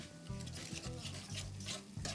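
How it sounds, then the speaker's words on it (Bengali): Turmeric, chili powder and sugar are sautéed and stirred in a pan for a prawn malai curry, with a steady sizzle and rhythmic scraping strokes, close and moderately loud with no talk. "সব মশলাগুলো আমি ভালো করে কষিয়ে নিচ্ছি।"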